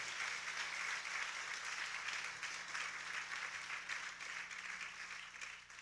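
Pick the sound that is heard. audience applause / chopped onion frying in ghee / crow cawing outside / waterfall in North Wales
audience applause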